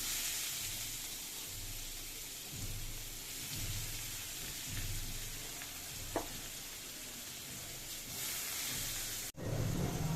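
Chopped onion dropped into hot oil with cardamom, cloves, cinnamon, bay leaf and white pepper, giving a steady loud sizzle and bubbling hiss throughout, with a brief clatter near the end.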